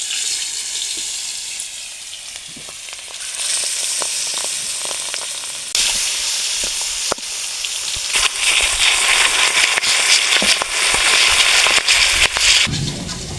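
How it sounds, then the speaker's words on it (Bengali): Pieces of boal fish fry in hot mustard oil in a kadai. The oil sizzles loud and close, with sharp crackles and spitting pops that grow more intense partway through. "এখানে মাছ ভাজছে"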